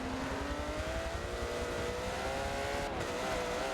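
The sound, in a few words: TVR race car engine passing in racing video game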